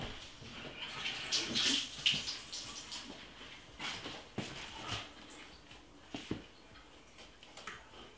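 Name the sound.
washing a mango under running tap water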